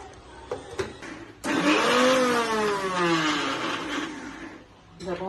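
A mixer grinder churns chopped banana flower into vada batter: a loud whirring motor starts abruptly after a few soft knocks, its pitch sagging and rising as it grinds, then it drops away near the end.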